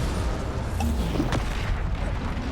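A Bombarda spell explosion in Hogwarts Legacy lands as a deep, loud boom within a dense, continuous roar of spell and combat noise.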